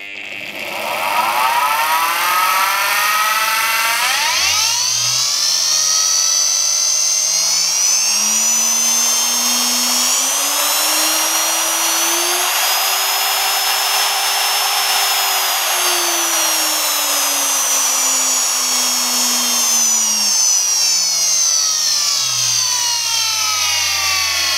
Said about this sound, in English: I'm now developing various sophisticated motor controllers for this motor,